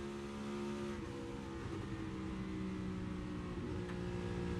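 NASCAR Cup race car at the Coca-Cola 600 on a television broadcast, a steady loud engine drone with a sustained low tone and slight pitch shifts as the driver lifts off the throttle.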